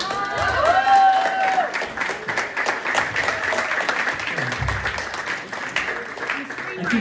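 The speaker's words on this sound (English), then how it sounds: "every filmmaker for every film, would you guys stand up? Let's give them a hand." An audience at a university film festival claps for the filmmakers as they stand, a loud, steady wash of applause from a large crowd lasting several seconds, with a few voices and cheers mixed in.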